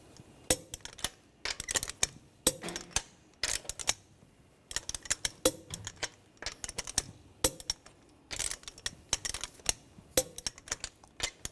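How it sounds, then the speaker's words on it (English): A torque wrench tightens the lug nuts on a Ford Escape wheel, giving sharp metallic clicks and ratcheting bursts in irregular clusters, close and crisp against quiet pauses. "Now we'll torque the lug nuts to 100 foot-pounds in a cross pattern to tighten the wheel down evenly."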